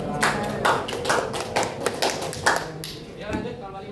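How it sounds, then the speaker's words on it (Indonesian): Classroom audience of student teachers clapping after a group presentation, a light run of evenly spaced handclaps with voices talking over them. "Tepuk tangan dulu."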